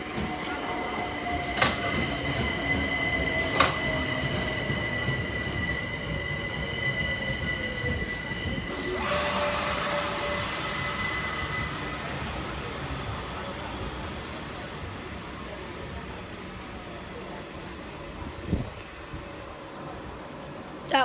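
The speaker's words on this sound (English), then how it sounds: "That was a train coming." Train rolls past close by, loud and continuous, with long steady wheel squeals and rumble that swell and ease over about twenty seconds.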